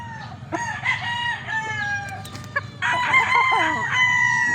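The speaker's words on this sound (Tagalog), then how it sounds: "Boss Glenn, ito na yung manok mo papuntang Cotabato." A gamefarm fighting rooster bound for Cotabato crows loudly and close, with two long ringing crows and clucking from other fowl between them.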